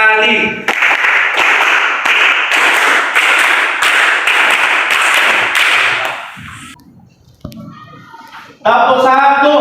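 Classroom group of students clapping a rhythmic pattern in unison, sharp hand claps repeating steadily for several seconds, then fading out with a few scattered voices before loud clapping resumes at the end.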